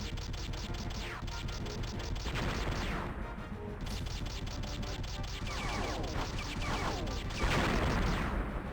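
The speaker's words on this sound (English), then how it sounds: "So when your guns heat up, you kind of run out of the ability to auto fire." Spaceship guns auto-firing in the 1996 Sega Saturn game The Last Dynasty: rapid repeated zapping shots in dense bursts with short pauses between, sharp and close, with no talking.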